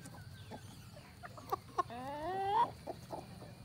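Chickens settling on the roost at sunset, with soft scattered clucks and a brief rising call over a low background hum; fairly close and moderately quiet.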